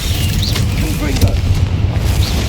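A Confringo fire blast spell in Hogwarts Legacy, loud rumbling booms and bursts over a heavy low game soundscape, with a voice shouting.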